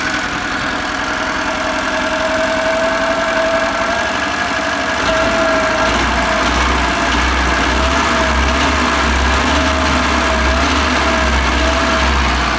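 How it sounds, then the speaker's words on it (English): The engine of an old Żuk van idles with a misfire on one cylinder, a steady mid-pitched running drone with an uneven lumpy pulse, deepening into a heavier low throb partway through, no talking. "It is sounding like it's misfiring, probably on one cylinder."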